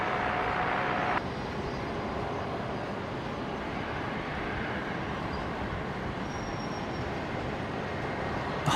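An airliner landing on runway 19 right at Brisbane International Airport, a steady broad roar that holds evenly at moderate loudness throughout, with a brief brighter tone layered on top at the start.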